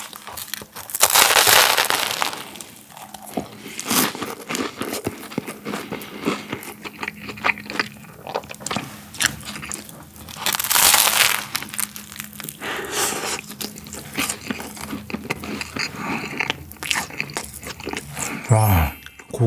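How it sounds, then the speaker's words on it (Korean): Bites into a cheddar cheeseburger with a crispy toasted bun, giving sharp crunchy crackles and chewing noises in close-up bursts, mixed with occasional speech. "근데 좀 빵이 바삭한 그런 버거예요."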